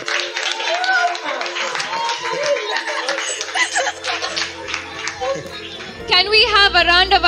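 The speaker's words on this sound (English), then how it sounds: "applause for both teams" Clapping and cheering for both teams at the Game of Learners 2022 season finale, a steady crowd wash with laughter and chatter mixed in, and a voice speaking over it near the end.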